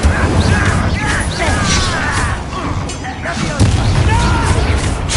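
The Bombarda explosion spell in the Hogwarts Legacy video game sets off booming blasts and crashing impacts in quick succession, mixed with shouted speech.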